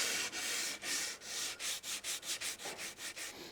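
Hand sanding along iron-on plywood edge banding to blend the edge and clear leftover glue squeeze-out, a close, steady run of short rhythmic abrasive strokes, about a dozen back-and-forth rubs with no talking.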